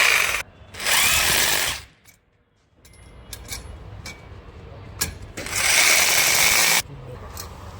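A drill tightening a convex mirror stand during installation, heard as two loud, steady whirring bursts of about a second each, separated by quieter handling noises and light clicks.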